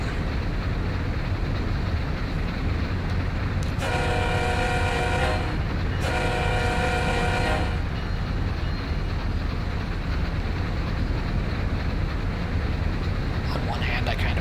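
A freight train runs in a train driving video game through Pennsylvania, with a steady loud rumble and a two-part horn blast near the start, the roar continuing unbroken throughout.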